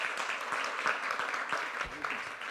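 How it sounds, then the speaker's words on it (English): Audience applause for a guest named Dan at a Canticle Productions gathering, moderately loud clapping with a bit of voice mixed in. "Let's give him a big round of applause."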